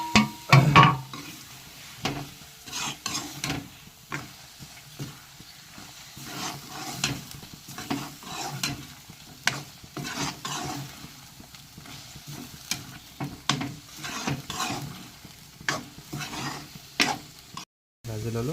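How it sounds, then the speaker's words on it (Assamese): Paneer frying in a pan at home, with a steady close sizzle and repeated scraping, stirring clicks running throughout, briefly cutting out near the end. "এনেকৈ ভাজি আছোঁ"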